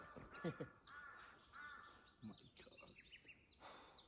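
Several crows caw repeatedly outdoors on a mountain ride route in Helambu, Nepal, harsh calls overlapping at moderate distance amid other chirping birds and faint background sound.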